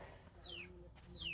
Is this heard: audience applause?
no